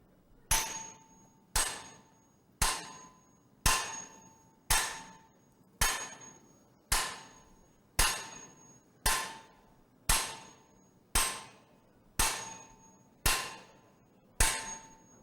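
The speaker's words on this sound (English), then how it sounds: "he had to pick up the biggest hammer here in order to beat on this thing" A big hammer beats on metal in fourteen evenly spaced, loud ringing clangs, each strike decaying before the next, with no voices.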